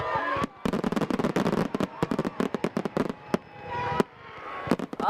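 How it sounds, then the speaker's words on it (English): Annual Chamber of Commerce fireworks show in Shafter on the 3rd of July, heard as a rapid run of sharp, loud bursts and crackling pops, with voices talking and cheering through the display. "the city of Shafter kicking off Independence Day celebrations a day early with their annual Shafter Chamber of Commerce's 3rd of July fireworks show"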